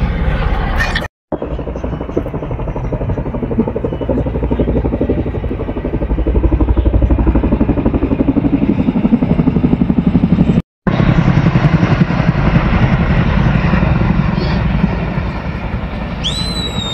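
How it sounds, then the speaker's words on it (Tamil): Loud, steady thudding rotor drone of helicopters passing overhead at the Saudi National Day air show in Riyadh, 2024, sustained throughout with two brief dropouts. "பாத்தீங்களா, ஹெலிகாப்டர் 2 போகுது."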